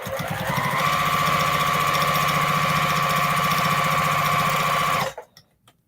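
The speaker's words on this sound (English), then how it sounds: "Couple stitches forward and back to lock in that corner." A sewing machine stitches binding onto a repurposed plate mat, locking a corner with a few stitches forward and back. It runs fast and steady for about five seconds, loud and close, then stops abruptly.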